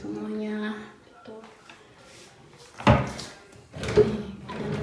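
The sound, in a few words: drawer of a bathroom cupboard being opened or closed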